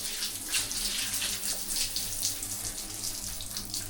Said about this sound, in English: So I'm gonna rinse it.